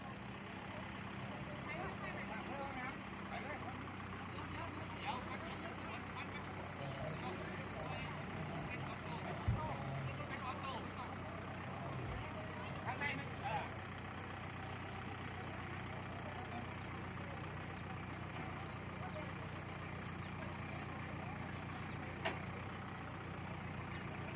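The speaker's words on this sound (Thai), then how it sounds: "รถไถเป็นพระเอกครับ วันนี้ดึงเป็นสามสี่คันแล้ว" A farm tractor's engine drones steadily at low pitch while it tows a car stuck in mud at a temple merit-making festival, with people talking over the running engine throughout.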